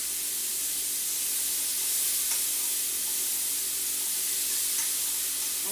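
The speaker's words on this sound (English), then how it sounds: "now I'm going to put in a big hunk of garlic." Garlic frying in a hot pan for Cornish hens in wine, a steady soft sizzle and hiss running evenly throughout with no talking.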